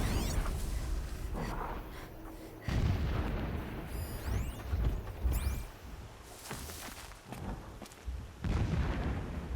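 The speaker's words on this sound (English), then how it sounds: "Explosions in the distance." Distant explosions boom repeatedly in Horizon Zero Dawn, heavy muffled thuds rolling in at irregular intervals over an outdoor ambience with faint clattering.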